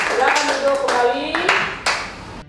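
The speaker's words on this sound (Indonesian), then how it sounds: "Sekali lagi kita berikan tepuk tangan yang meriah" Students in an elementary classroom clap together, a short lively round of hand claps over a couple of seconds, mixed with a voice talking over it.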